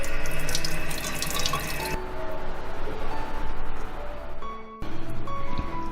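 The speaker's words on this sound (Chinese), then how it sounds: "用清水冲洗一下。" A kitchen tap runs steadily as fresh tofu is rinsed under it, a close, continuous splashing rush with shifting tone as the water hits the block and sink.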